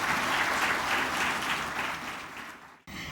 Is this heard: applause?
yes